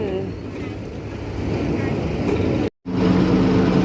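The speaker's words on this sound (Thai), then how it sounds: "เรือข้ามฟากเรือข้ามฟากกำลังเทียบท่า" A ferry docks at the Si Phraya pier on the Khlong San crossing in Bangkok, its engine a steady low rumble mixed with wind noise, close and continuous apart from a brief dropout near the end.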